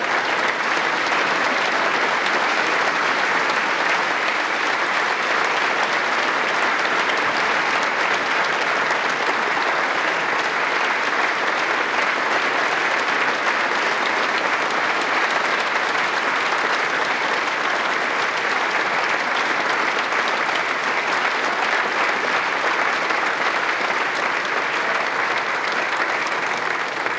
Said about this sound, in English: I think that applause was what I was going to ask for anyway